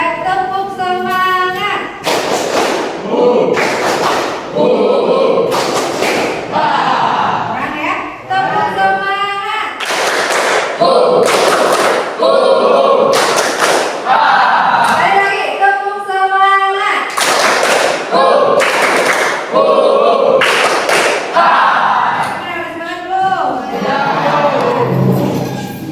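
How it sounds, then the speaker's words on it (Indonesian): A standing group of workshop participants performs a rhythmic spirit clap in unison, loud sharp bursts of clapping in patterned sequences repeated throughout, with voices chanting and talking between the clap bursts. "Tepuk semangat."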